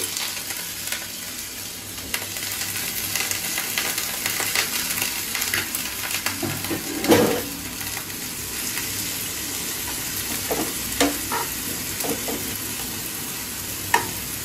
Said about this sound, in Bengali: সেদ্ধ হতে হতে আমি পেঁয়াজের বেরেস্তাটা রেডি করে নিচ্ছি